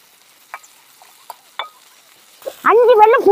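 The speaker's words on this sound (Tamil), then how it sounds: "இப்படி பொரியுது பாரு" Drumstick leaves and shallots fry in oil, giving a few sparse, quiet crackling pops, then a voice starts talking near the end.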